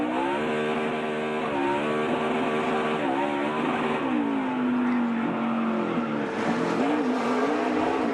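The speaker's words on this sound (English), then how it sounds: "Drifting is a really hard thing to do" NASCAR stock car drifting with a loud sustained engine whine that rises and falls as it revs, tires squealing underneath in a continuous close roar.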